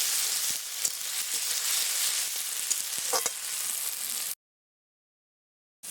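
Ground garlic paste fries in hot oil for duck curry, giving a steady, close, dense sizzle with a few spoon clicks. The sizzle stops abruptly into silence, then briefly starts again at the very end. No one talks.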